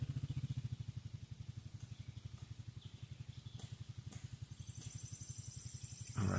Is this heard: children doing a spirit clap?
no